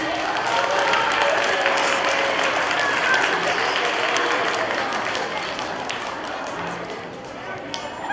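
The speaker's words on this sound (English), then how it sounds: "Let's have a big round of applause for all of our January winners" A school assembly crowd applauds its January award winners with sustained, loud clapping that fills the hall, then thins and fades toward the end, with voices murmuring beneath.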